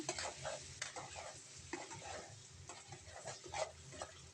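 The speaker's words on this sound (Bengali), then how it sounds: "তারপর আবারও আমরা একটু নেড়ে দেবো" Potatoes frying with spices in a pan are stirred, giving a steady close sizzle broken by repeated scraping strokes of the spoon, with no talking.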